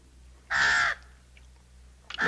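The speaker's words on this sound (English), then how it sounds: "Don't play with the bird, boy. He don't like it." A pet crow gives two harsh, close caws, the first lasting about half a second, the second cut short, with quiet room tone between them.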